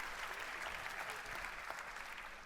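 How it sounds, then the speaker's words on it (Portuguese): An audience at a business talk applauds, a dense, even wash of clapping that holds steady for a couple of seconds, fairly soft and distant. "Podem bater palmas."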